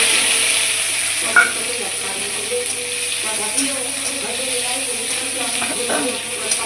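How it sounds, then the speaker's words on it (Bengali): Onions fry in oil in a pan with a constant close sizzle and occasional stirring scrapes and clinks, steady throughout, with faint talking in the background. "এই যে পেঁয়াজটা ভাজা ভাজা হয়ে গেছে"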